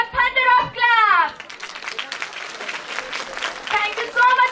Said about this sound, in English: So you have to motivate them with your thunder of clap.